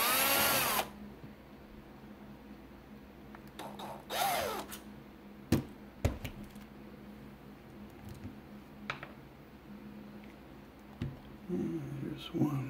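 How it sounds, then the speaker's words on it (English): A small power screwdriver backs screws out of a Panasonic DMP-BD80 Blu-ray player, with short whirring bursts between handling clicks, faint and close. "we're going to take the two other screws out"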